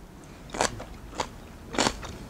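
Someone bites and chews a salad of squid, oyster, water parsley and paprika in a spicy sauce, giving three crisp crunches close up, separated by short quiet pauses.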